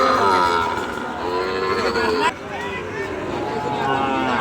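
Sahiwal bulls and calves at the Ambari cattle market, one giving a loud, drawn-out moo close by that carries on over a steady background of other lowing and market noise.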